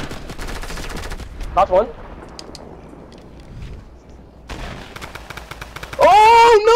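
Rapid automatic gunfire in Fortnite, loud crackling bursts at the start and again near the end with a lull between, while players talk over it.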